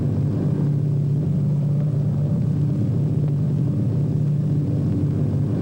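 A propeller airliner of the 1940s flying over a big city with tall buildings, heard as a steady, loud droning engine hum with a low rumble, continuous and unbroken throughout.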